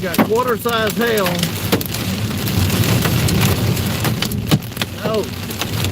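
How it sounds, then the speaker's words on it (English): Heavy rain and quarter-size hail pound a vehicle during a severe storm on Highway 250 in Indiana, a dense steady roar with sharp impacts, while people talk over it. "We got quarter size hail."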